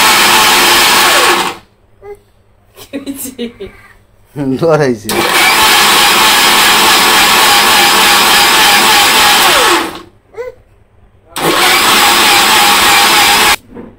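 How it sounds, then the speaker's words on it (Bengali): A kitchen blender whirs loudly as it purees mango with sugar and a little water, running in two long bursts separated by short gaps where people talk. "অল্প একটু জল দিয়ে এখন ব্লেন্ডার করে দিব।"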